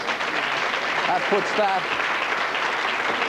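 Steady applause from a studio audience at the 1988 A Song for Europe contest as a vote score is announced, a continuous dense clatter of many hands, with a voice talking briefly over it.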